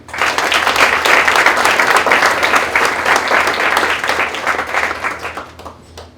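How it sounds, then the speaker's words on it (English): An audience at an academic all-star awards breakfast bursts into loud, sustained applause, dense clapping near and continuous for about five seconds before tapering off. "Ladies and gentlemen, may I have a round of applause for Ethan."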